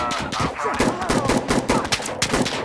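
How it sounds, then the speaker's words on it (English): Heavy sustained autofire from a vehicle autocannon strafing a position in Insurgency Sandstorm, loud and dense with rapid overlapping blasts throughout, shouted voices mixed in. "Autocannon on Charlie, stay clear, stay clear."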